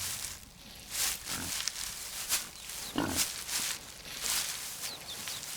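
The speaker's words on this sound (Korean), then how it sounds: "올무에 걸려든 어린 멧돼지." A young wild boar is caught in a snare outdoors in winter and thrashes about. Its squeals and grunts come in several irregular bursts, mixed with rustling scuffles at close range and no talk.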